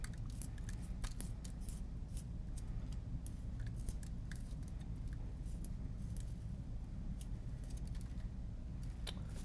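A colored pencil is sharpened in the fat side of a pencil sharpener, giving a steady, close scratchy grinding that runs continuously with small crisp clicks throughout.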